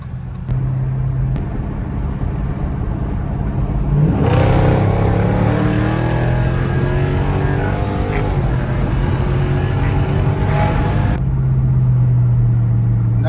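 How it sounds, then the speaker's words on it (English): A car with paddle shifters and its catalytic converters removed accelerates, the exhaust swelling into a loud rising drone with climbing engine tones that holds for several seconds before dropping back to a low idle rumble. "That's all just me pushing the gas. Just loving the way it sounds without the cats in there"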